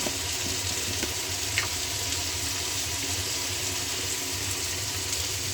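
Eggplant pieces fry in a pan with a steady, even sizzle that holds at a constant level throughout, broken only by a faint clink or two.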